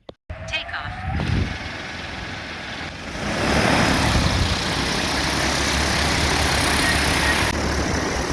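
An agricultural T40 spraying drone lifts off, its rotors building from a short start into a loud, steady broadband roar that swells further after a few seconds and holds close and strong.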